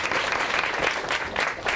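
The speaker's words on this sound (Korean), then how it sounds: "박수가 크시네요." A startup investment talk show studio audience applauds in a loud, continuous wash of clapping that holds even throughout.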